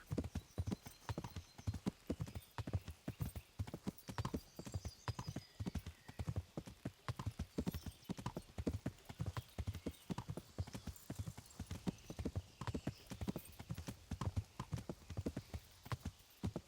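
Horse hooves clip-clop steadily in Kingdom Come: Deliverance, a brisk, even rhythm that carries on throughout at moderate loudness, with occasional faint background sounds.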